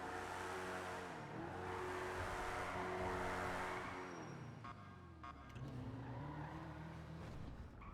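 A car driving in GTA V on the NoPixel roleplay server, its engine droning steadily and shifting pitch as it moves, with tire noise and a brief dip before the engine picks back up.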